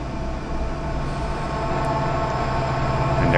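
A train pulls in within the Run8 train simulator video game, a steady low rolling rumble with a faint hum that grows gradually louder, with no voices.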